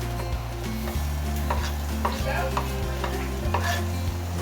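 Onions and garlic sautéing in a pan for pork pochero, a steady close sizzle under repeated scraping, clinking stirs of a spatula against the pan, with no talking.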